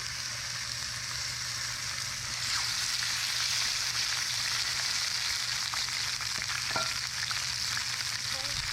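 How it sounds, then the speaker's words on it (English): Wild turkey breast frying in a pan over an open fire makes a steady, close hiss and sizzle that swells slightly after a couple of seconds, with a low constant hum and a few faint pops. "And then I'm going to take our wild turkey breast, put it right in the pan."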